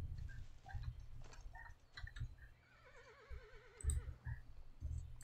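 Wild horses at Rocky Mountain, a faint whinny with a wavering, trilling neigh heard at a distance over soft outdoor background noise and a few light knocks.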